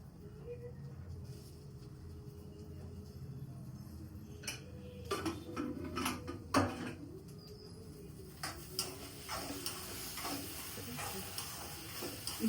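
Sliced okra (vendakkai) sautés in a pan for kaara kulambu, with a soft, constant sizzle and intermittent spoon scrapes that grow more frequent toward the end, all fairly quiet.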